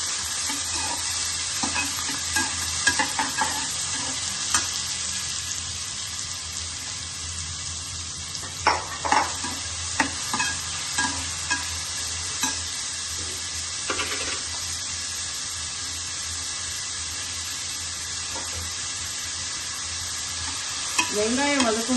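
Chopped onions sizzle and fry in oil in a pan for cauliflower kurma, with steady crackling and occasional stirring scrapes throughout, close and continuous, no talking.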